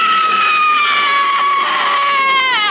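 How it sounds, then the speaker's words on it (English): An actress screams at full force in a scene from the horror film Texas Chainsaw Massacre: The Beginning, one long, loud, shrill sustained scream that wavers and breaks near the end. "The screaming has definitely taken a physical toll on me."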